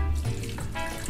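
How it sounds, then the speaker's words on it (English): Chili liquid pours steadily into a blender with a continuous splashy gurgle, close up and fairly loud, with no talking. "a cup of that chili liquid down in there too to help this kind of blend down"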